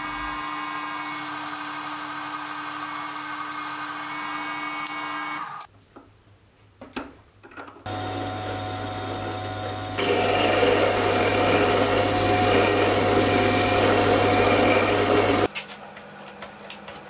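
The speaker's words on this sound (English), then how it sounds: "I'll now machine the shaft for the cutter to push onto" A metal shaft being machined to about 25mm for a gear cutter arbor, with a steady machine whine, a brief stop with clunks, then a louder sustained cutting hum running for several seconds before stopping.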